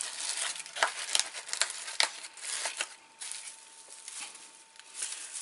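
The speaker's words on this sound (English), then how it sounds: "scrunch the tissue paper up" Tissue paper crinkles and rustles in bursts, close by, with a few sharper scrunches in the first two seconds; no voices.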